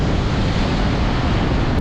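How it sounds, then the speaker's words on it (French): Ocean surf and strong wind buffeting the microphone during a windsurfing session, a steady loud broadband roar of waves and gusts filling the whole stretch with no voices. "Le vent vient vraiment en face de moi, les vagues aussi."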